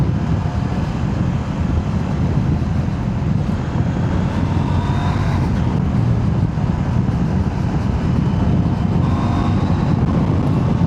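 A CF-Moto 800 MTX motorcycle engine drones steadily while riding, a loud, continuous low rumble mixed with road and wind noise, without any talking.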